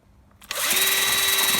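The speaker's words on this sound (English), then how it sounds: "I have a wire brush and a drill, and I'm just going to go over it all" A drill fitted with a wire brush spins up and grinds flaking paint and rust off a brake caliper from a VW Golf Mk1 GTI, a sudden start into a loud, steady whining scour close by.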